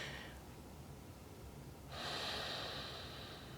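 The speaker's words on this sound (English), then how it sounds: "Slow and easy breath, just long, slow breathing." Slow, deep breathing during a seated morning relaxation practice, drawn in through the nose: a soft, quiet exhale gives way to a steady, breathy inhale in the second half, with no talking.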